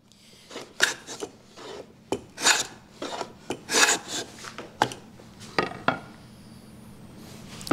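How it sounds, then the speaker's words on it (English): A hand plane shaving the end grain of an oak board on a shooting board, about a dozen short, rasping strokes in an irregular rhythm, close and alone. "And on planing something like oak, it's good to get a bit of a run at it."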